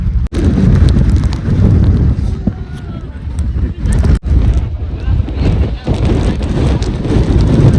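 Strong mountain wind buffeting the microphone high on Girnar mountain in the monsoon, a loud, continuous low roar with gusty swells and occasional sharp thumps, while a person talks over it.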